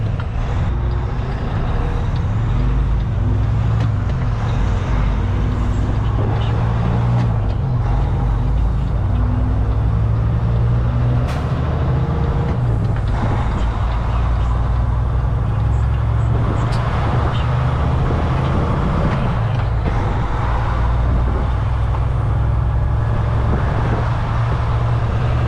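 From inside a truck cab on the road, a loud, constant engine and road rumble drones throughout, with occasional rattles and clicks over the steady roar.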